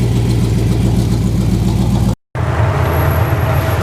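The engine of a 1929 Ford Model A roadster pickup runs loud and close with a steady rumbling idle, cut by a brief drop to silence before it resumes.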